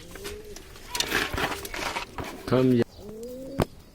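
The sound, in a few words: pigeon cooing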